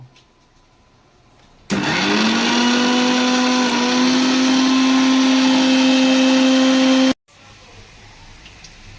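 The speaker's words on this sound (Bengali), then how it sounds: "এবারে আমি মিক্সিতে মশলাটাকে বেটে নেব" An electric mixer grinder whirs loudly, grinding ginger and cumin into a spice paste; the motor starts abruptly after a quiet moment, runs at a steady high-pitched hum for about five seconds, then cuts off sharply.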